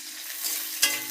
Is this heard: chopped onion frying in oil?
yes